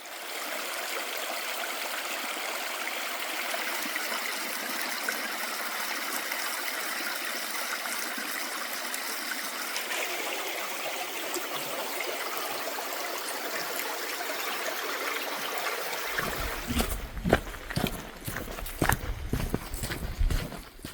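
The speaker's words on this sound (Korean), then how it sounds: "시원한 물소리가 참 좋네요." A small mountain stream flows beside a forest trail, a steady broadband rush of running water for most of the stretch, then giving way near the end to irregular rustling and footfall-like knocks up close.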